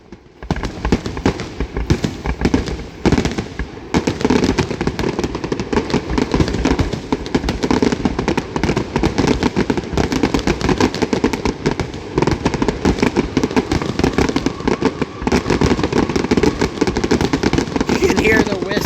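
Fourth of July fireworks with whistlers go off continuously, a dense barrage of crackling bursts and shrill whistling rockets that never lets up, loud and near, with people talking and exclaiming over it throughout.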